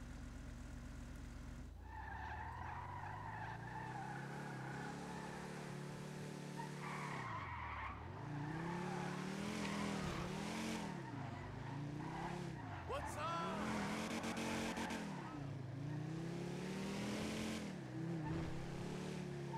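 In GTA V roleplay, a car drives with its engine droning and rising and falling while the tires squeal in repeated swooping skids over about twenty seconds.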